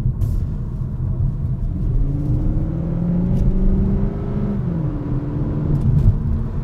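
Synthesized engine sound piped into the cabin of a 2021 Cupra Formentor e-Hybrid 245 while accelerating, a steady low rumble with rising and shifting tonal hum, heard from inside the car.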